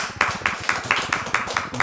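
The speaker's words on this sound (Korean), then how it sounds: "하나님께 영광의 박수 드리겠습니다" Rhythmic unison clapping from a church congregation at an evening worship service, steady beats about every quarter second, fairly close and moderately loud, with a murmur of voices beneath.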